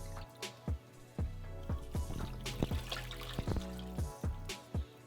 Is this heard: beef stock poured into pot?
yes